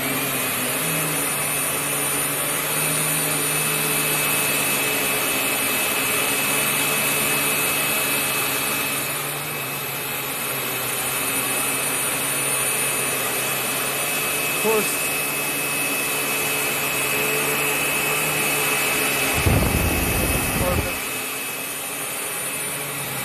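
A Dirt Devil Ultra upright vacuum cleaner drones steadily and loudly during a floor pickup test, with a brief rough rattle near the end.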